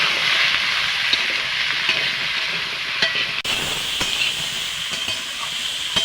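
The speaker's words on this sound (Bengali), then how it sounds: "আমি নাড়াচাড়া করে ভেজে নেব এটা" Winter vegetable curry frying in a pan with salt and turmeric, a continuous close sizzling hiss that holds steady throughout with faint scraping stirs.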